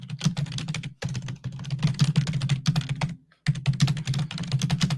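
Fast, steady typing on a computer keyboard, close and crisp, with dense clusters of key clicks broken by two short pauses.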